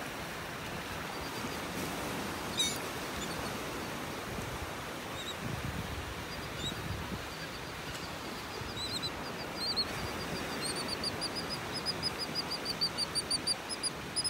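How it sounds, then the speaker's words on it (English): Birds calling along a beach in North Naples, Florida, their chirps rising more often toward the end over a steady wash of surf and wind, with no talking. "just looking at watching all these birds"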